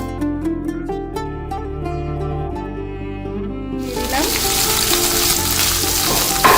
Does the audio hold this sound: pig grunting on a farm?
no